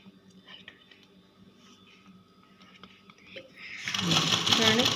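A sewing machine stitching piping thread starts up near the end, a close, rapid whirring clatter that quickly grows loud, following a quiet stretch of soft handling noises and someone talking.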